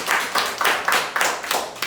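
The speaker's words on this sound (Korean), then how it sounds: "박수 한번 쳐줍시다" A classroom gives a short round of rhythmic clapping for a student, roughly six even bursts of hands, close and moderately loud.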